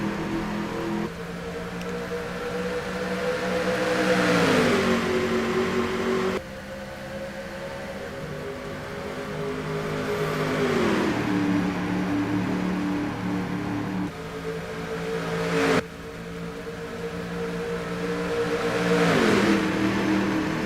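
Race cars circle Talladega Superspeedway in a pack, their engines droning loudly and rising and falling in repeated sweeping waves as they pass, with several sharp shifts in tone and no talking.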